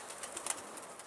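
Pigeons cooing and flapping their wings outdoors, a short burst of soft wing flutters with faint coos, fairly quiet and without talk.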